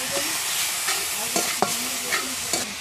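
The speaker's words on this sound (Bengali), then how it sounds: "মশলাটা ভালো করে কষে নিয়েছি।" Spice paste with chilli and turmeric frying for a village-style rupchanda fish dopiaza curry, a constant close sizzle broken by sharp spatula scrapes and knocks against the pan, no voices.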